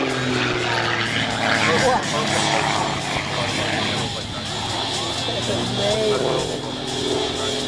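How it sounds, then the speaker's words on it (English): A small propeller aerobatic airplane at the Tico airshow does a tail slide, its engine a loud, steady drone that swells and fades while an announcer talks over it. "As he does a tail slide, hits that little airplane on its prop, drops out of the sky backwards like he's sliding down."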